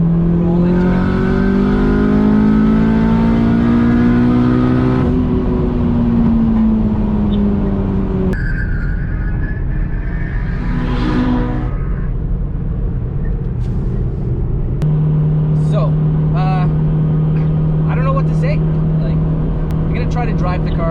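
A turbocharged K20 engine in an 8th-generation Honda Civic Si with a PRL turbo kit revs up loudly in fourth gear toward 5,000 RPM, pitch climbing under load, then settles into a sustained drone, with a voice talking over it.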